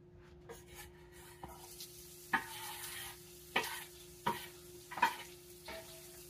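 Ground meat for a bacon cheeseburger meatloaf cooks in a frying pan, with a soft continuous sizzle under a steady low hum, broken by several sharper clinks and scrapes of stirring, with no talking.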